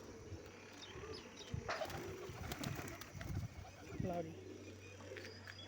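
Desi pigeons coo softly at a village pigeon loft amid faint chirps and background bustle, while someone talks over the birds.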